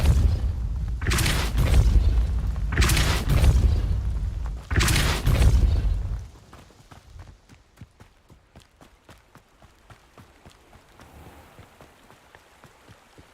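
Depulso spell in Hogwarts Legacy fires three times, each a heavy booming blast with a sharp onset and a rumbling tail, evenly spaced, followed by quieter footsteps and faint rustling.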